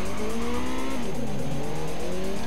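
A race car on a track in the video game Ridge Racer Driftopia roars loudly under a constant engine note, with tire squeal and skidding as it slides through a drift.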